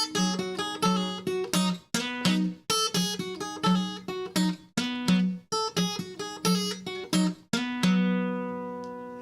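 An acoustic guitar plays a quick bluesy lick, plucked notes with bass notes mixed in, ending on a ringing, sustained chord.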